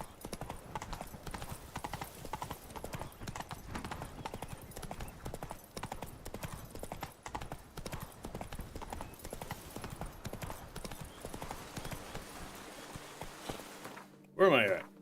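The horse Roach trots in The Witcher 3, with rhythmic clip-clopping hooves close by over game ambience and occasional talk, ending with a short whinny.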